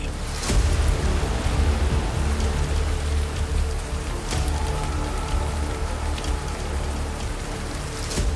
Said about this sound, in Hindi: 1 घंटे बाद भी बारिश थमती नजर नहीं आई।